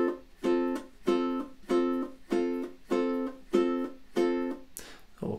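A ukulele plays the repeating intro of March of the Toreadors, six evenly spaced strummed chords ringing out in a steady pulse, close and clear, ending with a brief scrape.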